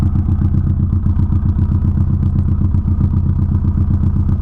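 Idling twin-turbo engine of a Subaru B4 Legacy with the turbo downpipes merged into a single 4-inch exhaust, a steady smooth low rumble with an even pulse, close and continuous with no talk.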